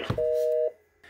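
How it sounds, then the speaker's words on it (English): A Fanvil SIP desk phone's door-open button sends an automatic DTMF touch tone: one clean, steady electronic beep lasting about half a second, loud and close, preceded by a brief button click. "It sends the touch tone automatically needed to open the door."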